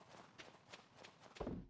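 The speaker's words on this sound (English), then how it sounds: "It's my dog's tail, like, patting the snow." Soft rhythmic patting of a dog's tail against snow in the Stardew Valley video game, a few quiet regular thumps followed by a louder, fuller thump at the end.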